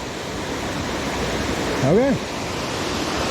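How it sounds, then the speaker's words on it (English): Holcomb Creek Falls, a waterfall on a hiking trail with snow still around, rushes in a steady, loud broadband roar that fills the whole clip, with a brief spoken word partway through. "So this is Holcomb Creek Falls."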